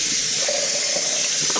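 Cold tap water runs over a whole raw chicken being rinsed in a kitchen sink, a loud steady gushing stream close by, no talking.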